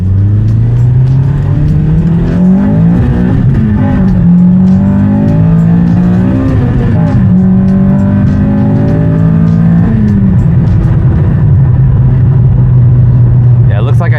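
Honda Civic FD2 race car engine heard from inside the cabin, revving up and down in several swells that rise and fall in pitch, with a voice talking over it.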